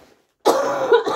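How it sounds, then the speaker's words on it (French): A single harsh, close cough bursting after a brief silence and rasping on for under a second. "Ah oui, mais ça tousse."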